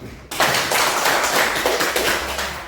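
Classroom applause during a Christian religious education lesson, with dense, steady clapping from a group of students that starts abruptly and fills the room at a fairly loud level, with no talk over it.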